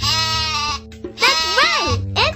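Loud, close sheep bleats: a long wavering baa, then a second rising and falling one, with the start of a third.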